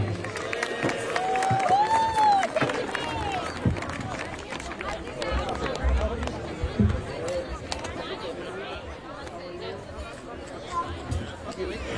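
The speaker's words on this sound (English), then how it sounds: "Let's give a round of applause to Dave." Crowd applause and cheering at an outdoor Hanukkah menorah lighting ceremony, a swell of clapping that tapers into chatter and murmuring voices.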